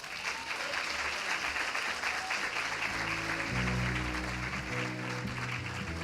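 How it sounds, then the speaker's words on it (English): A crowd applauds scholarship award recipients with steady, sustained clapping throughout, while background music starts up partway through. "Let's give both young ladies another round of applause"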